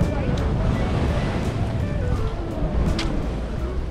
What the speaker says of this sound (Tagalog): So medyo malalakas ngayon ang hampas ng alon